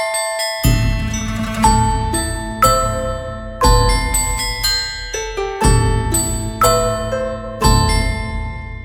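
A sampled ensemble of Javanese gamelan with Burmese saung gauk harp, played together: bright struck metallic tones and plucked strings in repeated rhythmic phrases with strong attacks roughly every second, loud and sustained with no voices.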